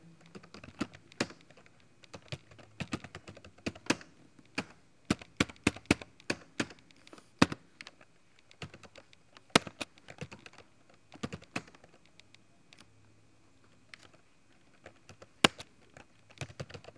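Keys on a computer keyboard are tapped in irregular bursts while text is typed into a word processor, close and crisp in a quiet room, with short pauses between runs of keystrokes.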